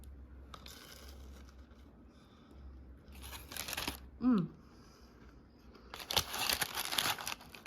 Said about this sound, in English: Let me just have a bite, but off camera.